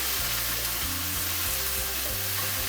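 Garlic and ginger frying in a pan while cooking in an RV camper give off a loud, continuous close-up sizzle, with a low steady hum running beneath it.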